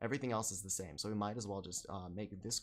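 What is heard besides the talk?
No everyday noises stand out.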